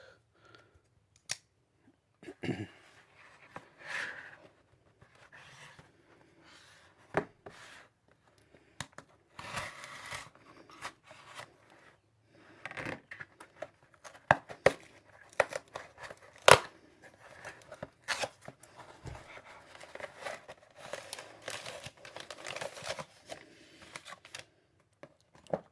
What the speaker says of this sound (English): I'm going to open it up with the Spyderco Smock.